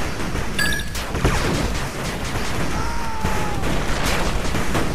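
Rapid gunfire crackles continuously in the strategy game 8-Bit Armies, dense overlapping shots and booms over a steady battle din, with a brief unit voice line.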